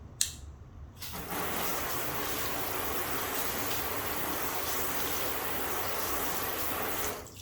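Water flooding across a car body panel treated with Rain-X Graphene exterior detailer, a steady close rushing spray that starts abruptly after a brief pause and runs evenly, loud and alone, until cutting off at the end.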